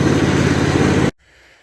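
A small red tractor's engine strains under load, droning loudly and steadily up close, then cuts off abruptly, leaving near silence.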